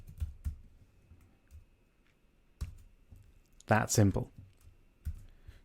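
Typing on a computer keyboard into a web form's text input: a few scattered, soft key clicks with long pauses between them, and a brief spoken phrase partway through.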